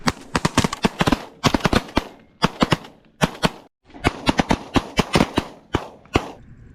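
Rapid volleys of shotgun blasts during a pigeon hunt, many sharp shots in quick bursts with brief gaps between groups, close and loud, with no talking.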